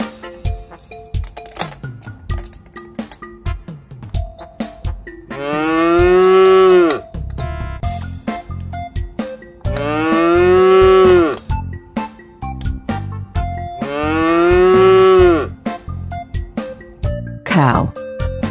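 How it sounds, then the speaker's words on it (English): Three long, loud cow moos, each a drawn-out bellow, spaced apart among clicks and short tones from a children's farm animal game. "Cow."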